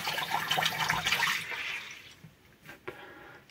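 Tap water runs steadily into a sink while a face is washed with lukewarm water, a close hissing gush that fades out, then a few faint splashes and drips.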